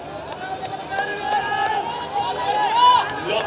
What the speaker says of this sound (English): Lots of cheering, lots of instructions for Gihan Chaturanga.